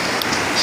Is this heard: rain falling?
yes